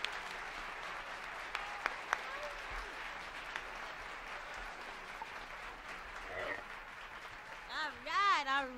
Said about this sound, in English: Would you please give them a round of applause, please?